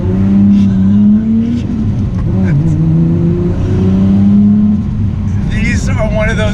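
Loud engine drone of a 615 hp 1990 Nissan Skyline R32 heard from inside during a ride, pitch rising and falling through revs and shifts, with a brief higher whir near the end.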